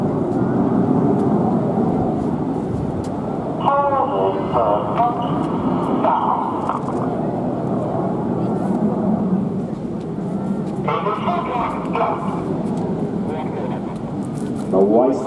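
Red Arrows display jets flying past produce a loud, sustained roar that swells and shifts, with a person talking over it at times.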